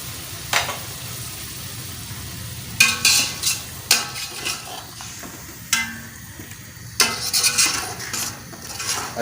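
Half a kilo of yogurt being stirred into biryani in a pot: repeated scraping and clinking of a spoon against metal in bursts, with a soft background hum and no talking.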